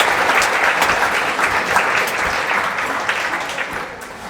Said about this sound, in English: Let's give big applause to all of you.